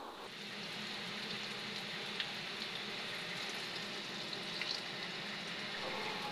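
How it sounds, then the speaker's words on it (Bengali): Chicken pieces fry in oil over low heat, giving a steady, even crackling hiss like light rain that holds at a moderate level throughout, with no voices. "আজকে আম্মু ফ্রাইড চিকেন করছে, তো লো হিটে সবগুলো ভেজে নিবে।"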